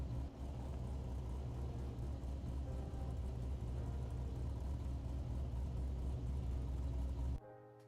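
An LS3 V8 car engine in a video game runs at a steady, loud, low rumbling drone that holds for about seven seconds before cutting off abruptly near the end.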